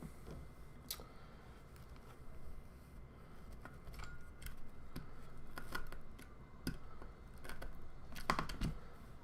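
A box cutter scraping and catching against a cardboard box, giving quiet, irregular ticks and short scratchy strokes over a low room hiss, close and faint, with no voices.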